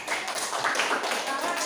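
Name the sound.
audience clapping hands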